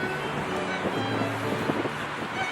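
Steady outdoor wind noise in Budapest, Hungary, rushing across the microphone, a continuous broadband roar with faint low tones beneath and no talking.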